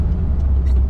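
Yellow 1973 Chevrolet Corvette convertible with the top down, its engine a steady low rumble while driving, close and continuous over a brief moment.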